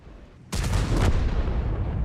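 A single heavy tank cannon blast erupts suddenly after a quiet moment in a video game, its loud booming roar lingering and rumbling on without fading.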